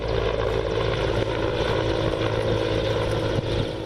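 Indian Air Force aircraft, a steady loud engine drone with a low propeller-like throb that holds constant throughout, with no voices.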